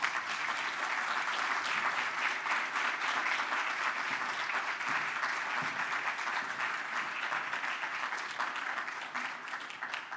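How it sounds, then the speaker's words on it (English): Sustained, full applause from an audience at a Veterans Day recognition ceremony as a judge is welcomed, a dense steady wash of clapping that holds for several seconds and eases slightly toward the end. "Please give a great round of applause to Judge William Hooks."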